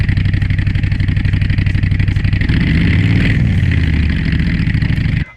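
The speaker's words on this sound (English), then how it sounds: "this engine sounds like a Harley V twin engine at low RPM" A simulated 12,000 RPM boxer four-cylinder engine idles in a video game, giving a loud, steady, throbbing hum that holds for several seconds and then cuts off abruptly.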